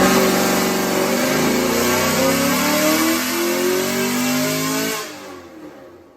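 A 6th-generation Chevrolet Camaro SS fitted with Kooks longtube headers revs loudly and up close, its V8 rising and climbing through a sustained harsh roar before it cuts off sharply near the end.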